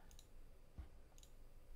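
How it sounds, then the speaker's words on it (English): A computer mouse gives a few faint, quiet clicks spaced apart over a low background hum, with no talking. "I will click on it like this, you will see."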